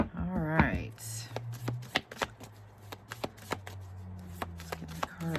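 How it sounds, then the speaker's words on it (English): A deck of tarot cards is shuffled close up, producing a quick series of crisp riffling snaps and taps. A voice speaks briefly at the start, then the shuffling continues alone with a low hum underneath. "get the cards shuffled here"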